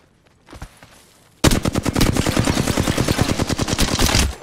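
In Apex Legends, a single shot is followed by a long, rapid burst of automatic gunfire, loud and close, with evenly spaced sharp reports running for nearly three seconds.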